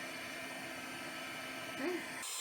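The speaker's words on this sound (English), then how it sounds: "I love my heat gun." A heat gun used for card making blows hot air in a steady, close, even whoosh that cuts off near the end, with a voice speaking briefly over it.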